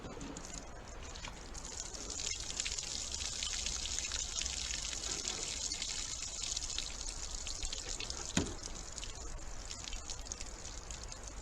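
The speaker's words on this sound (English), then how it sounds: "drain the water out of this 5th jug and get the projectile out of there" Water drains steadily out of a plastic jug used as a bullet trap for a .357 Magnum, a continuous trickling wash with one sharp knock near the end.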